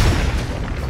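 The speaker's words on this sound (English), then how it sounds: "you gotta watch out for these secondary explosions" Heavy booming explosions in the first-person shooter Hard Reset, a dense, loud low rumble that continues through the whole stretch with no talk over it.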